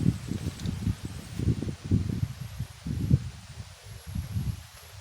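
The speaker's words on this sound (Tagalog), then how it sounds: "lakas ng hangin oh" A strong outdoor wind buffets the microphone in deep, rumbling gusts that surge and ease in an uneven rhythm, close and fairly loud.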